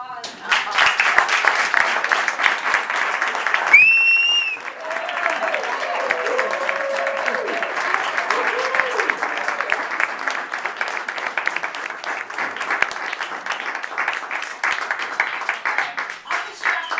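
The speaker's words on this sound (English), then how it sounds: "Would you please help me to acknowledge my mother with a round of applause?" A crowd gives a sustained round of applause at a 70th birthday party, dense clapping throughout with a few cheers and whistles rising above it, loud and near.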